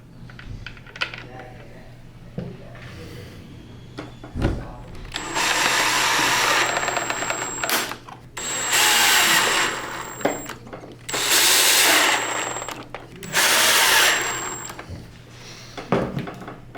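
A power screwdriver drives the last four screws through the bottom plate of a Prolux CTX vacuum into its lower body, four loud whirring bursts of a few seconds each, with clicks and handling noises between them.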